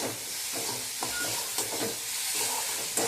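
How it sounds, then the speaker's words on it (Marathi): Onions sautéing with salt in a pan for kande pohe: a spatula scrapes and stirs in repeated strokes over a crackling sizzle, close up, with a few sharper clinks, no speech. "त्यानंतर यामध्ये जाईल चवीपुरतं मीठ आणि पुन्हा एकदा ते परतवून घेऊया"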